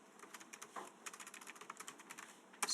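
Rapid, light clicks of fingers typing a command on a computer keyboard, a quiet, irregular patter of keystrokes up close, ending with a slightly louder tap.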